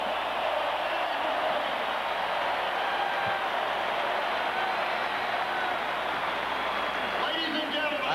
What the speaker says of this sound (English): The crowd appreciates it.